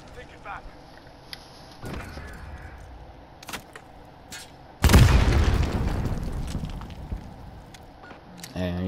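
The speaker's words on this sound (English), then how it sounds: "A grenade." A grenade goes off in Call of Duty: Modern Warfare with a loud, close boom and a long rumbling decay, preceded by scattered clicks and faint game ambience.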